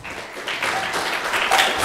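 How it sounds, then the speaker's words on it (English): Applause at a temple gathering for a mother and son's birthday, a short burst of scattered clapping from a seated group, moderately loud and building slightly. "Please give them a big round of applause."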